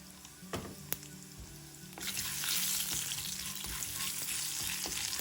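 Chana dal, urad dal, mustard seeds and cumin sputtering in hot oil for a tempering, with a steady sizzle that swells louder partway through and a few sharp pops and spoon clinks over it.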